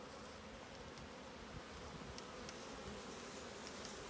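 Honey bees buzz steadily at a beehive, a dense continuous hum from many insects close by with no break.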